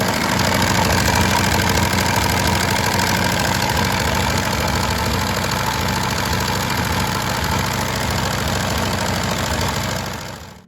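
A 1934 Morgan MX4 three-wheeler's vintage engine runs at a steady idle, close and loud, with a continuous throbbing, slightly knocking beat that fades out at the very end.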